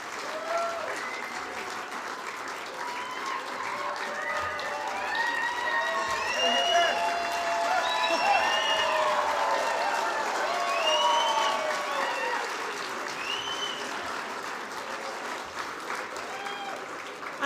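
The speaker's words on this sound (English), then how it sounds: "I was going to ask for one more round of applause, but I don't have to." Sustained applause from a large audience at the 2012 Wyoming Governor's Arts Awards ceremony, steady and dense throughout, swelling a little near the middle before easing off.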